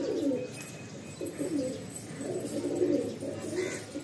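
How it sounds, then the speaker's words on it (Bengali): A tiger pigeon, a fancy flying pigeon breed, coos in soft, low, rounded phrases that repeat with short pauses, close by against a quiet background with a faint higher chirp now and then. "মানে এই একটা টাইগার পায়রা"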